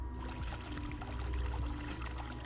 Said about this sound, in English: Okay, I got running water.